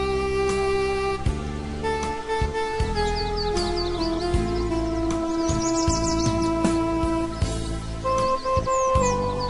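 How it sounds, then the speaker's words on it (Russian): Birdsong added as a sound effect, several chirps and trills rising above a steady background melody with sustained tones, continuing throughout without any voices. "и мы слышим пение птиц"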